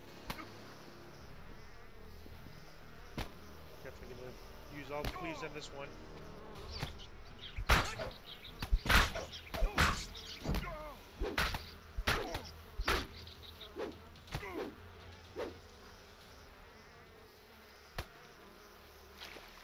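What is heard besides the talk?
bees swarming near hives in video game DDO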